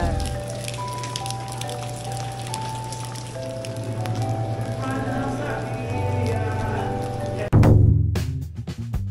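Steady rain falls on a street market in Brazil, a dense, even hiss with faint tonal background sounds, then a sudden louder burst near the end.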